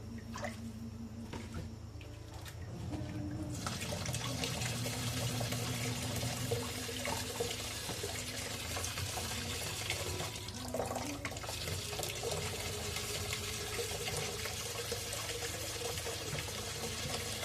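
A kitchen faucet is opened and water pours out in a steady, close splashing stream, starting abruptly after a few seconds of low background hum and running on continuously.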